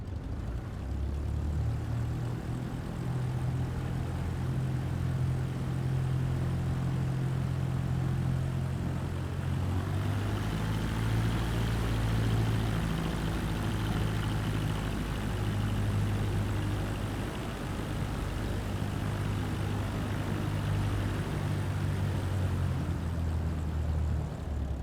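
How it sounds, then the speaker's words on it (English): Airplane taxiing onto a runway in Microsoft Flight Simulator 2024, a steady, loud propeller-engine drone with low throbbing hum that holds constant throughout, swelling slightly midway, with no talking. "Now slowly taxi onto the runway and align the plane with the center line."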